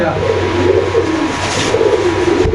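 Pigeons coo at a crowded Bangladeshi pigeon market, a low continuous burbling chorus close by with busy background noise and voices.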